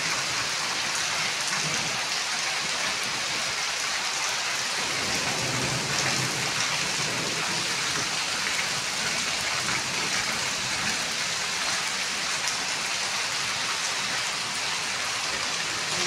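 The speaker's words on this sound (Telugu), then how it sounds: "మస్తు వాన పడుతుంది." Heavy rain pours steadily on surfaces during an afternoon downpour, a dense, unbroken hiss of close rainfall with no voices.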